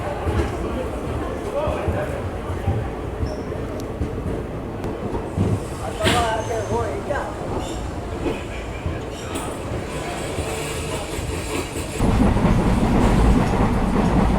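Chetak Express train rolling on the rails on the way from Delhi to Udaipur, near Mavli Junction, a loud steady rumble with clickety-clack from the wheels, growing heavier toward the end, while someone talks over it.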